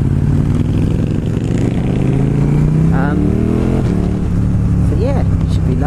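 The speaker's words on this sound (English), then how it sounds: "So Big Z's on his Hypermotard and Darren's on his CB1000" Motorcycles, a Ducati Hypermotard and a Honda CB1000R, ride together on a road, their steady engine drone loud and continuous close by, with pitch rising as they accelerate.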